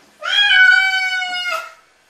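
A single cat gives one long, loud, close meow lasting over a second, clear and alone with no voices, rising slightly before trailing off.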